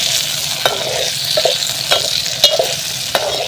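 Green chillies fry in hot oil with a loud, continuous close sizzle, punctuated by several clicking stirs and scrapes of a spoon against the pan, with no speech.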